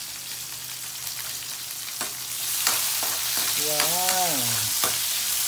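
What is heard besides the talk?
onions and tomatoes sautéing in a pan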